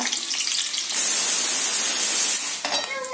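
Chopped onion dropped into hot oil while cooking a cabbage vegetable dish, giving a loud sudden sizzle that holds steady for about a second and a half before easing to softer frying, with brief clatter near the end.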